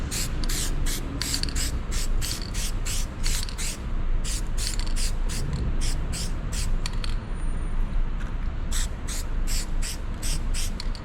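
Plasti Dip sprayed from an aerosol can onto a truck in repeated bursts, each hiss short and sharp with brief pauses between, about a dozen and a half sprays over steady background noise.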